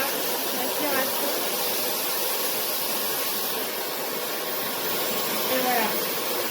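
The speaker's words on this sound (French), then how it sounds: "Donc bon, c'est le bruit d'un aspirateur classique" Amazon Basics cordless 2-in-1 vacuum cleaner with a BLDC motor runs with a steady, loud airy whine and hiss throughout, its even suction roar holding constant from start to finish.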